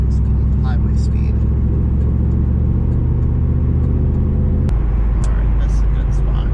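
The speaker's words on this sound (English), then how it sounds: "Go from a standing start and see how it gets up to flow of traffic." Car accelerating hard from a standing start up to highway speed, a loud, steady engine drone that rises and then shifts sharply partway through, with people talking over it.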